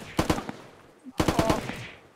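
Automatic gunfire in the video game Unturned: two loud, close bursts of rapid shots, each about four or five rounds, separated by a brief pause.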